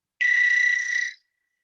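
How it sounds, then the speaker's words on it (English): An American toad in Ontario gives a single high, steady trill lasting about one second, loud and clear against silence. "This is actually what your American toad sounds like. It's about a 20 to 30 minute long trill."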